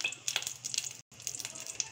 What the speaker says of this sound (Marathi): मी याच्यात आता हे राई टाकते आहे, मोहरी टाकली आणि हे जिरं टाकलं आहे.